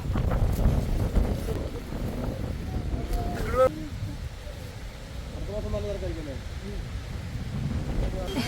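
Wind buffets the microphone with a low rumble while people talk nearby, the gusts steady throughout.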